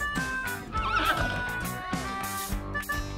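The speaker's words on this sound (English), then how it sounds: "We're even gonna ride on these horses." A horse on a farm neighs loudly with a long whinny, close by, while hooves clip-clop in an irregular rhythm underneath.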